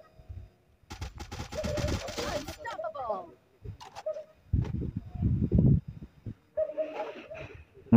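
Rapid bursts of gunfire from a mobile shooter video game laying down covering fire, sharp crackling volleys in short clusters with gaps between, mixed with game sounds and voices talking over the action.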